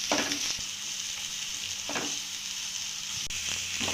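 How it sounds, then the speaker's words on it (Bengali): Chopped onion frying in hot oil for a Bengali egg jhal pitha, a steady close sizzle with a few soft scrapes and thumps as it is stirred, no talking. "পেঁয়াজটাকে একটু হালকা নেড়ে চেড়ে ভেজে নেব"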